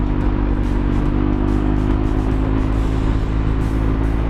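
A motorcycle's engine hums steadily and close by as the bike leans into a curve, a continuous low drone with no break in its tone.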